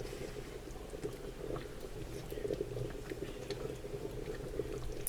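Spaghetti sauce simmering in a pot, a soft continuous bubbling and gentle hiss that stays low and steady throughout with no voices.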